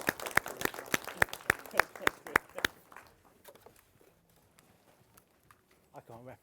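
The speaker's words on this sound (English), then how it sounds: "Let's give them a round of applause." Live audience claps at a photography masterclass in a studio: a run of sharp, fairly loud claps for about three seconds, then it fades into quieter room noise.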